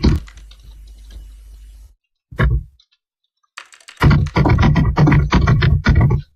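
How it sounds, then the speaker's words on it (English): Bursts of rapid computer keyboard typing, close and fairly loud, with short pauses between flurries of key clicks. "We hear you typing, Marley."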